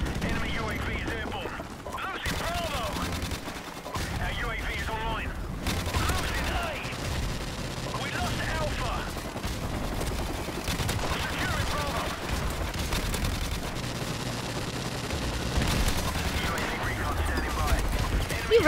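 Gunfire in a Call of Duty 4 match on the Shipment map, repeated shots and rapid bursts over a busy game soundtrack for the full stretch, with a player talking over it now and then.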